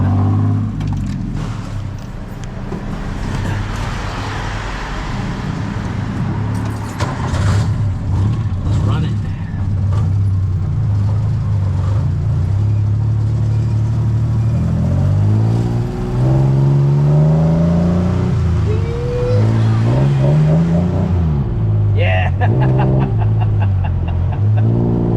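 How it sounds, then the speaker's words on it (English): A tuk-tuk rides through Bangkok streets at night, its small engine whirring and revving steadily with pitch rising and falling through gear changes, close and loud, with traffic around and voices talking over it. "I'm gonna go via tuk-tuk"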